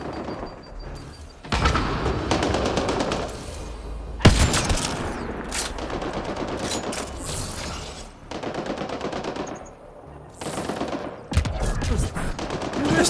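Sustained bursts of rapid gunfire from Mass Effect Andromeda combat, loud and dense, rolling in long volleys with brief gaps and a few heavier booming impacts.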